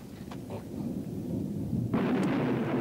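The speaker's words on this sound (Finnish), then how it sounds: "Sehän onkin ukkonen, joka rymistelee siellä." Thunder rumbles low and heavy, a continuous rolling growl that swells in loudness partway through, with no talk over it.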